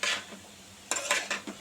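A spoon or spatula stirs bottle gourd peel with cumin in a pan, giving a few quick scraping and clattering strokes in a short burst after a moment of near silence.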